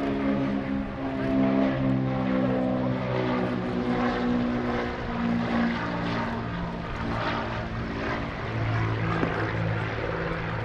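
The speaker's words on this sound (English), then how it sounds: "we've got the Beechcraft T-34 Mentor out there" A Beechcraft T-34 Mentor propeller plane drones steadily past at an airshow, its engine note loud and sustained with a slight rise and fall as it flies by.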